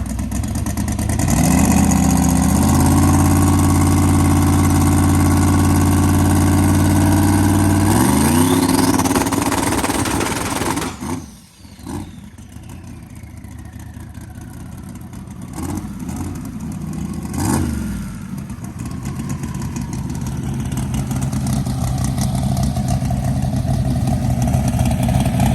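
A drag car engine is spooled up on the brake, revving up in stepped rises to a loud sustained roar, then cutting off abruptly around the middle before settling into a lower rough idle and building again.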